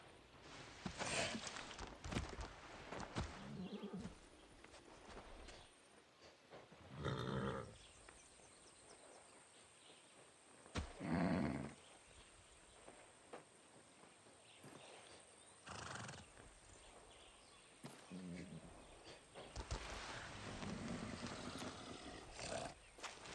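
A horse in the video game Far Cry 6 whinnies loudly several times, with its hooves clip-clopping in between the neighs, against a steady ambient background.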